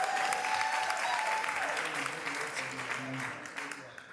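An audience claps steadily at a podcast taping, a dense, even wash of applause that slowly fades, with a voice heard over it at the start.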